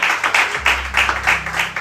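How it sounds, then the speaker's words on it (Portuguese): Church congregation applauding during a service, a dense wash of clapping from many hands with rhythmic swells, loud and close. "Você pode aplaudir ao Senhor com o seu melhor"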